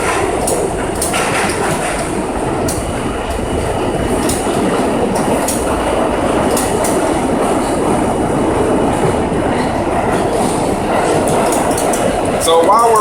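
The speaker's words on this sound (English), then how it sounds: "So while we're on the train" A train rumbles steadily along the rails, loud and close, with constant rattling and clacking throughout.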